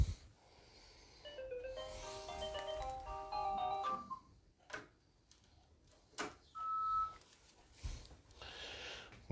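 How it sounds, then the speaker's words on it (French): A landline telephone rings with a stepped electronic melodic tone in a room, repeating over the first seconds, then a brief single-tone beep later among quiet handling noises and breaths. "Mais décidément, ça fait 2 fois le téléphone en pas longtemps."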